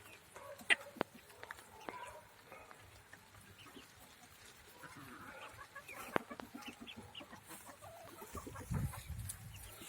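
Farmyard hens cluck and peck in short scattered bursts while eating leftover food, a moderately close, uneven flock chatter over low rustling background noise.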